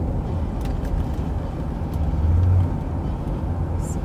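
A 1981 Chevrolet Corvette drives on the road with a steady, low engine rumble and road noise that swells briefly midway as it pulls through the gears.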